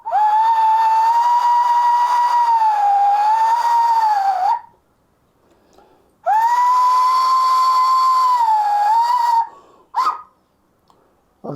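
Steam locomotive whistle sounding at a station: two long, loud, steady hooting blasts with a short gap between them, then a brief third burst cut off at the end.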